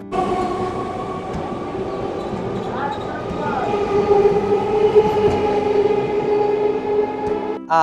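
A local train from Howrah rolls into Tribeni station in West Bengal with a loud, steady rail rumble, a brief wheel squeal midway and a rising roar near the end, while voices murmur in the background.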